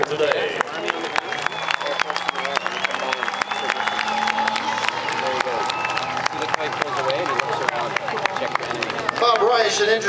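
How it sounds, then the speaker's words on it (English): Crowd at a military air show applauding and cheering, a dense, steady wash of clapping and raised voices over several seconds, with an announcer talking over the noise. "Let's have a nice round of applause for them here today."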